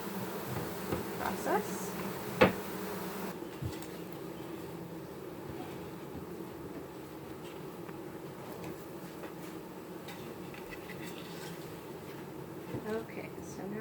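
Honeybees hum steadily as a bee package is installed into frames in a hive, a low continuous buzz with a few bees passing close, under soft handling noise and a brief spoken word.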